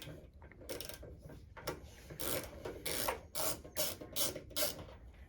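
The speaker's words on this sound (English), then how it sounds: "Then you're going to take your 9/16 deep well socket and remove the current nut." A ratchet with a 9/16 deep well socket clicks and rasps while loosening a nut on a transformer, a close run of uneven mechanical clicks over steady background noise.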